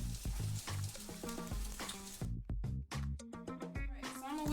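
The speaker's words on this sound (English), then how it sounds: "Here our apples are sizzling." Steady sizzling of apples frying in a hot pan, close and continuous, with clinks and scraping of a utensil stirring through them.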